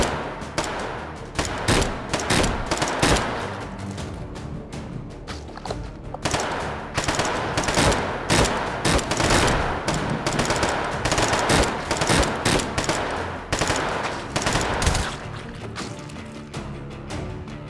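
Rifle gunfire in the VR shooting game H3VR, with close, loud rapid shots in long rattling bursts and brief pauses.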